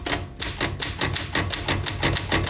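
Rapid typewriter keystrokes clatter close and loud, a steady run of sharp clicks with brief pauses, alone without any voices.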